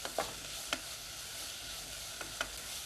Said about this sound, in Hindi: दाल को मिक्स कर लेते हैं हम